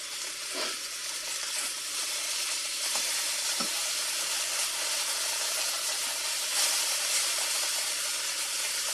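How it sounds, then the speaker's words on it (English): Floured chicken pieces fry in oil in a pan for chicken marsala, a loud, continuous hiss and crackle of sizzling with occasional small pops, close up and without talk. "the flour that you have with this oil is going to make a roux."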